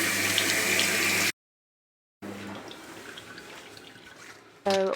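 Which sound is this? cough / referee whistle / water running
water running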